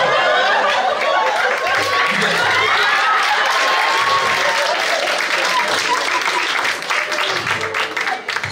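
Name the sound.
audience applause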